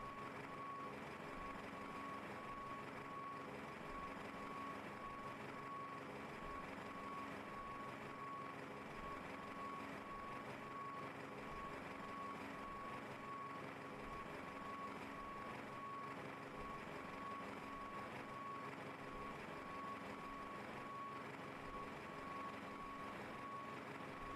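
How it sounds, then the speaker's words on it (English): Airport passenger bus drawing up beside a Biman Bangladesh Boeing 737-800 on the apron, its reversing beeper pulsing steadily over a continuous diesel engine rumble, fairly loud and close, with no one talking. "Passengers bus is coming."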